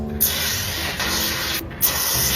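Hair spray hisses onto hair roots in two long, steady blasts, close and loud, broken by a brief pause, with no talking.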